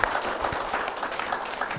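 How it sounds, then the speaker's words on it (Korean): A studio audience at a Salvation Army church program applauds to welcome a guest onto the stage, a steady dense burst of many hands clapping close up, with no voices over it. "박수로 맞아주십시오"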